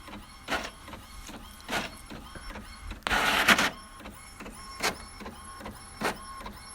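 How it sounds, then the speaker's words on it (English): A printer runs through a job with a steady whirring hum, rhythmic mechanical ticks and thumps roughly every second, and a short louder rushing feed sound midway through. "It's a printer."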